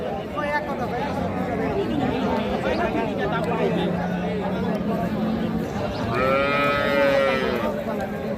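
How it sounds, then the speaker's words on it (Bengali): A Sahiwal cow moos at a busy cattle market, two drawn-out calls close by, one long low moo and a louder higher one, over a constant crowd babble and talk. "4 দাঁত বয়সের গাভী।"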